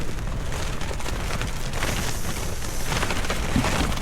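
Heavy, steady rain from a thunderstorm in the desert at night, pouring down with a dense low rumble beneath it, continuous and close, with no voices.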